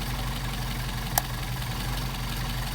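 A Mercedes 190SL engine on Solex carburetors idles steadily in cold weather, a low continuous rumble with one brief click partway through.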